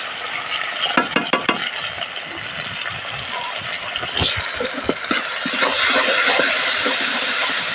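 Spices sizzling in a hot pan with fried onion and garlic, salt, turmeric, cumin, coriander and dried chilli for a crab and water lily curry; a steady hiss with scraping stirs and clacks, growing louder toward the end.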